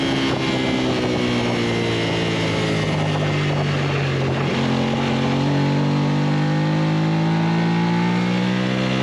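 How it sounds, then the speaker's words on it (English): A race car engine in a novice circuit race revs hard up to the rev limiter, loud and close, its rising harmonic whine sustained over about nine seconds with no talk. "And getting it right up to the rev limiter coming down into 6."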